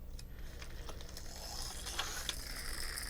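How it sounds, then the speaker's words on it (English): Small plastic sprocket mechanism inside a TOMY stunt car race set clicking as it is flipped, faint light ratcheting ticks scattered over a steady background hum. "when you flip it over, there's some sprocket thing here. That moved it over."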